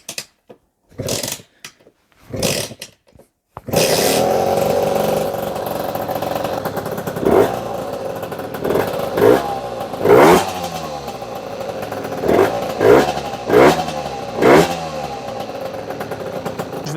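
A 2008 MBK X-Limit enduro motorcycle under restoration is kicked over a few times, then its small engine catches and runs close by, with repeated sharp throttle blips over a steady idle.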